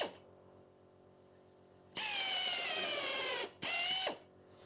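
A power driver runs a shorter screw into a wooden step-wedge block in two loud, close bursts, the motor pitch sagging as the screw bites, separated by a brief pause.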